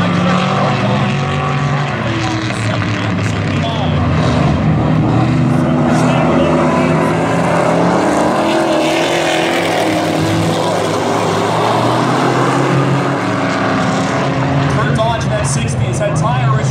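Modified class race cars racing at Valley Raceway, a dirt-track feature race, with a loud continuous roar of several engines rising and falling in pitch as they lap, under a commentator's talk.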